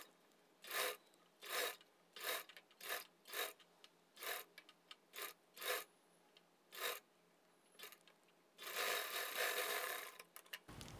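A sewing machine stitching a katori blouse, running in short, steady bursts of close, whirring rasp with brief pauses between them, then one longer continuous run, and no one talking.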